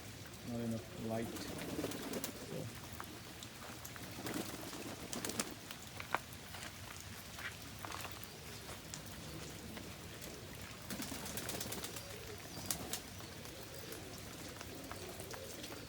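Pigeons in a loft coo softly and flutter while bathing, with scattered light splashes and wing rustles at low level, moderately distant and quiet throughout.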